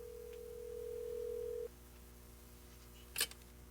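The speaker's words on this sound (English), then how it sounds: "I went over to the phone and called Madame Natasha's Temple of Zodiac." Telephone in an old radio drama: a steady dial tone hums for over a second and cuts off, then a brief sharp clack of the receiver or dial follows after a pause, with no talking.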